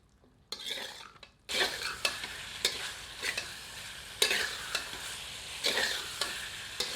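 Chicken with spices for a Lahori curry is stirred in a pan, with a frying sizzle under repeated sharp scrapes and clinks of a ladle against the pan, in an uneven rhythm, close and clear.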